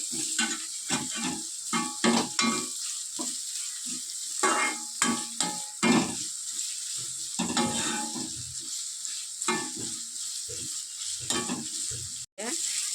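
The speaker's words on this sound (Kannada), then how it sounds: "ಈಗ ಆನಿಯನ್ ಹಾಕ್ಕೊಂಡು ಚೆನ್ನಾಗಿ ಫ್ರೈ ಮಾಡ್ಕೊಳ್ಬೇಕು." Onion and curry leaves frying in a pan, with a loud close sizzle broken by repeated stirring scrapes and clatters against the pan.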